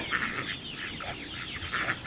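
Chickens and ducks crowd together at dinner time on a farm, a steady overlapping chorus of clucks and quacks at moderate distance, with brief louder bursts near the start and end.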